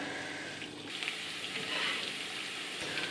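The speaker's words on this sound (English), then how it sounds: "I'll add the cumin seeds and the ginger and garlic. And let those cook for a couple of minutes" Cumin seeds, ginger and garlic fry in oil for a potato and cauliflower curry, giving a steady, moderately loud sizzle that swells slightly midway and carries on without speech.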